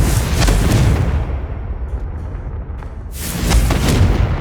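A Confringo blasting spell in Hogwarts Legacy goes off as a loud, rumbling explosion, followed by a roaring, crackling burst that fades and then swells again into a second heavy blast.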